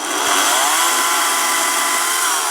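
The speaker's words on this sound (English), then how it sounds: "That's the first time using the chainsaw." Chainsaw cutting up a fallen pecan tree limb outdoors: a loud, continuous high-pitched motor whine held steady and close throughout, with no talking.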